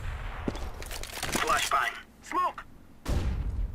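Rapid bursts of gunfire from Overwatch crack in short volleys with brief gaps between them, partly under a person talking.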